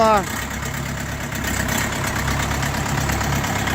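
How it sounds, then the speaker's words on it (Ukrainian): Orion JD404 tractor with a cab idling steadily, a continuous low engine rumble heard up close with voices talking over it. "красива, робить чітко трактор"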